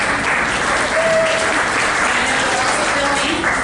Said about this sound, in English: Round of applause for Curtis.